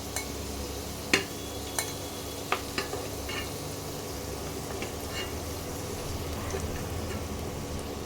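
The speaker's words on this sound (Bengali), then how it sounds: "আলুগুলো লাল লাল করে ভেজে নিয়েছি এবার আলুগুলো তুলে নিচ্ছি" Potatoes frying in hot oil, a steady close sizzle and bubbling throughout with a few sharp clinks of a utensil against the pan near the start.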